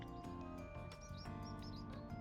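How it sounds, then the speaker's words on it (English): Birds chirp in the video game Trails Beyond the Horizon, with quick, bright tweets repeating in short bursts over sustained background music and no talking. "Good morning, birdies. You sound extra happy today."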